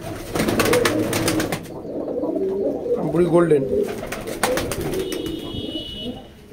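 A Rampuri Golden pigeon in a Howrah loft coos in deep, repeated throaty bursts close by, while someone talks over the birds.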